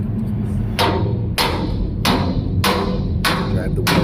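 A hammer drives a steel wedge under a welding dog in five sharp, evenly spaced metallic strikes, close and loud over a steady background hum.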